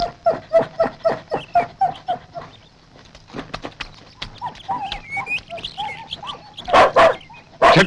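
Dogs bark in a quick, evenly spaced run of loud barks in a film scene, then break into scattered yelps, whimpers and shuffling noises before a few louder bursts at the end.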